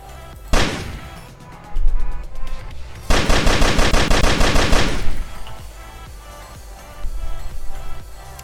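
Automatic gunfire in the video game Gunnhildr, with several loud rapid bursts, including one long sustained stream of shots, separated by quieter game ambience.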